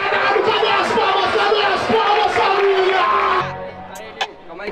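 A crowd at a Brazilian freestyle rap battle roars with shouts and cheers in a loud, dense wave that drops off suddenly, leaving scattered voices.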